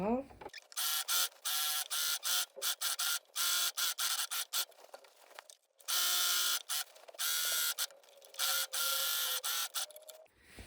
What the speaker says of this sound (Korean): 옆선 박음질 끝났으면 오버록으로 그냥 한 통으로 쳐서 마무리 해줄게요